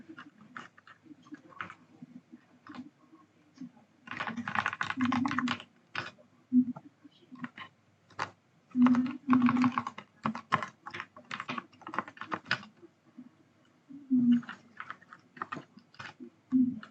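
Someone typing on a computer keyboard while entering a username and token password for git in Ubuntu, with bursts of rapid close keystrokes separated by short pauses and no talking.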